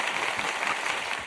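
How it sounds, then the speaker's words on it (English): Studio audience applause on a talk show, a steady dense patter of clapping throughout, fairly loud and continuous with no talk over it. "clap it up for him. Clap it up."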